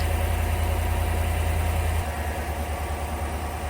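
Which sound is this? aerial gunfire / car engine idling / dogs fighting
car engine idling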